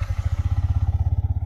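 A Yamaha MT-15 motorcycle, a 2021 model, is started and settles into a quick, even idle thump that pulses steadily and sits close to the listener.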